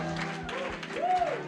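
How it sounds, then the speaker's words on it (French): A church congregation claps for God during a worship service at an anniversary celebration, a steady patter of hands blended under sustained singing and music. "Acclame le Seigneur. Clap for God."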